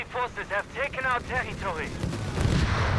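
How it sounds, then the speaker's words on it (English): Mortar bombardment in the Company of Heroes 3 video game, heard as deep booming blasts and rumbling impacts under a talking voice that dominates the first half, with the heavier explosions coming toward the end. "we got that mortar pit there, just bombarding the Krauts"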